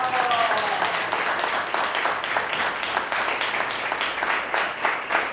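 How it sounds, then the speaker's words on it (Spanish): An audience at an evening talk on sustainable construction applauds steadily, a moderately loud wash of many hands clapping that carries on without pause. "damos un aplauso grande y fuerte para ella"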